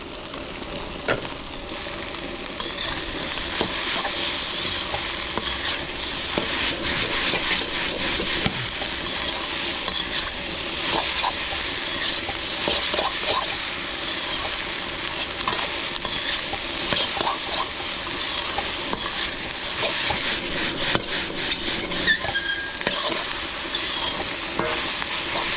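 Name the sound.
stir-frying chicken hakka noodles with green onions in a pan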